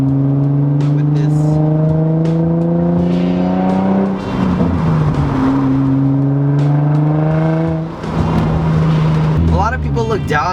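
An Infiniti G35 fitted with a budget aftermarket exhaust runs close by, its droning exhaust note holding steady, then dipping and swelling with throttle changes around the midpoint and again near the end.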